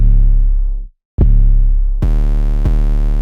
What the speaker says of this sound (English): I added another different 808, which is the 808 called Crazy